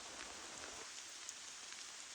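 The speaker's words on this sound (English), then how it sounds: "It's raining pretty steadily all day now" Steady rain falling outdoors during a field leadership course: a constant, fairly faint hiss of rainfall with scattered drop ticks and no voices.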